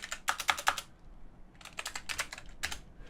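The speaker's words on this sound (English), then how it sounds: "And here I'm just going to type in fail." Computer keyboard being typed on in two short bursts of quick, light key clicks separated by a brief pause, close and soft with no talking.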